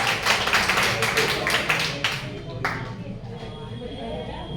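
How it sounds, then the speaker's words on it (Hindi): A small group at a real estate company meeting claps for another participant, a short burst of close, quick handclaps in the first couple of seconds that fades to a few stray taps while voices murmur. "इनके लिए भी तालियां।"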